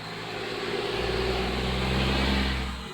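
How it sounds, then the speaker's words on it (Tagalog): A loud passing vehicle roars steadily, its low engine rumble swelling from the middle and peaking near the end with no voices over it. "Ang ingay ng sasakyan."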